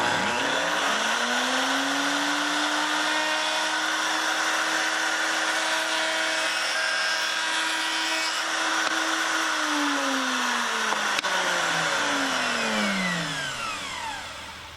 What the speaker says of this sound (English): making a short climb cut on just that corner and then finishing it off will reduce the chance that I'll get any kind of spelching on this corner